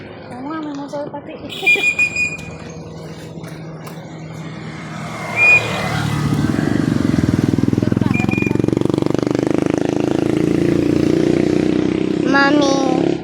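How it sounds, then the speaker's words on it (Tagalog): A motorcycle engine revs up and holds a steady drone for several seconds, fairly loud and close, following a voice and whistle-like tones at the start, with a few faint squeaks over the engine noise near the end. "may motor pati"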